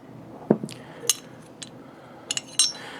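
Glock pistols, a Glock 17 and a Glock 23C, being broken down on a surface: a handful of sharp, separate metallic clicks and clinks of parts spaced across a few seconds, close and fairly quiet.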